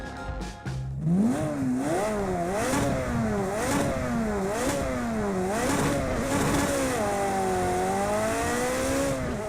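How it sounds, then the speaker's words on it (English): Ferrari 355 Challenge Stradale race car in Project Cars 2, its V8 revving loudly and close, pitch sweeping up and down through repeated gear changes before settling into a sustained high whine. "a classic race car with one of the best sounding V8s I think of all time"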